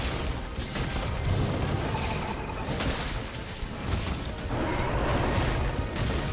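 Gunlance Wyvern Fire blast in Monster Hunter, fought against a Tigrex: dense, continuous mechanical clatter and crashing impacts with booming bursts throughout, loud and busy with no speech.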